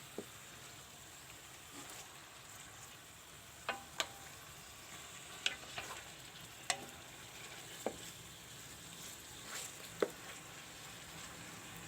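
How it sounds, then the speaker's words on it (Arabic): Chicken pieces frying in a pan for a Moroccan-style chicken kabsa, a low steady sizzle with sharp ticks and pops spaced every second or two, quiet and without speech. "هنا كنقلي الدجاج ديالي مزيان."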